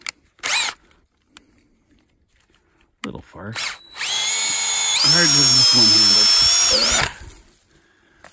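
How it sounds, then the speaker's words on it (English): A power drill whines steadily for a few seconds, boring a sap tap hole into a birch tree, its pitch rising and holding under load as it bores in close, with brief talk before it starts. "So of course this drill bit is squeaky clean."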